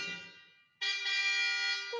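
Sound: car horn honking

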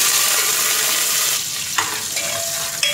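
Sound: sautéing small onions, curry leaves, coriander in oil

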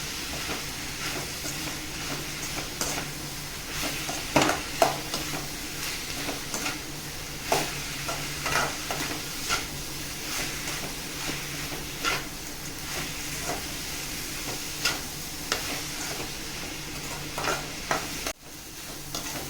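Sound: dried fish (karuvadu) sautéing in a pan

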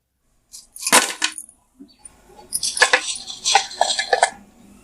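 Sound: fried food moved onto a plate

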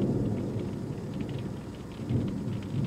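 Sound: thunderstorm with rain outside an RV

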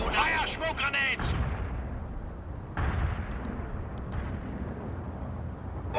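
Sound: artillery and gunfire in World in Conflict video game

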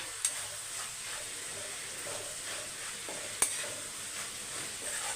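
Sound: stirring curry leaves into mushroom pepper thokku in pan

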